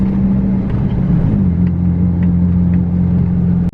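A car rolling on a road test after its tie rod ends were replaced, with a steady engine hum and road rumble from inside the cabin that stays even and loud throughout.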